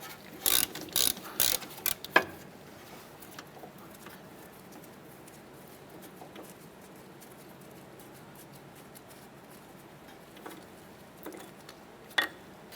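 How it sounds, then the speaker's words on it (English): A ratchet with a 10mm socket turns out an ABS brake line bracket bolt on a 2008-2012 Honda Accord, giving a few quick clicking bursts up close, followed by quiet handling noises and a couple of faint later clicks. "Using a 10mm socket, go ahead and remove our ABS brake line bracket bolt here."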